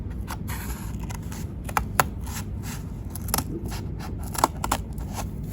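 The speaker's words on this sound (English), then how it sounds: "start cutting out" Scissors snip through paper to cut out a United States map, giving a string of crisp, irregular cuts and light paper rustles that are close and fairly quiet, with no talking.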